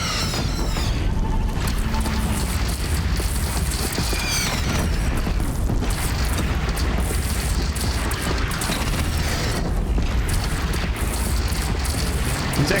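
Heavy cannon fire in the Horizon Zero Dawn video game, loud continuous booms and explosions from a platform defense battle, dense and relentless with crashing debris throughout.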